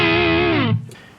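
A sustained electric guitar lead note from a Strat's neck pickup, warm and slightly overdriven, bending downward before cutting off and fading out.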